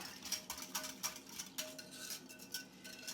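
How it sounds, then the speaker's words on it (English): A whisk clinks rhythmically against a bowl while stirring a sweet, sticky mixture of sweetened condensed milk, quick faint metallic taps repeating in a steady pattern at close range. "And I am just going to whisk that all in."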